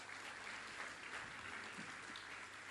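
A large forum audience applauds steadily for a speaker being introduced, a dense, even wash of many hands clapping throughout, heard from a distance with no talk over it.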